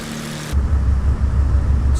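Steady low propeller-engine drone of a Beechcraft Baron 58 in Flight Simulator X on a flight from Bloemfontein to Cape Town, a loud, even hum that kicks in after a brief pause and holds alone to the end.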